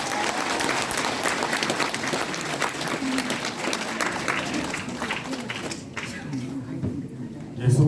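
A large indoor crowd at an election campaign launch ceremony in a resort grand hall gives steady, loud applause that fades toward the end as a voice begins to speak.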